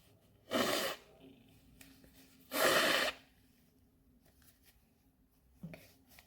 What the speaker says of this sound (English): I'm just gonna blow my nose.